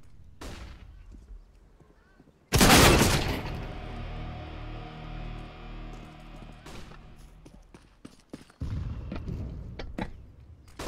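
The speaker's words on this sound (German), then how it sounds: "Throwing flashbang." In Counter-Strike, a thrown flashbang grenade goes off with a sudden loud bang, then a long ringing tone slowly fades before more gunfire and footsteps return. A voice speaks nearby.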